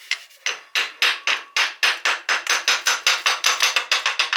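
Rapid, steady metal-on-metal hammer blows, about twenty sharp close strikes in a quick even rhythm, land on the cast engine case of a roughly 1983 Kawasaki 125 three-wheeler to knock it loose. There is no talk.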